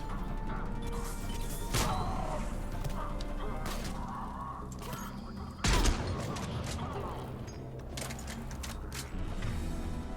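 Gunfire in the video game Mass Effect 3, bursts of weapon shots and impacts in combat over a steady game soundscape, with one heavy crash midway and a player talking over the action.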